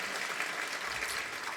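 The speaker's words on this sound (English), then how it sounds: "Let's give her a round of applause." Audience applauding at a book launch event, a dense, steady round of clapping from a crowd throughout.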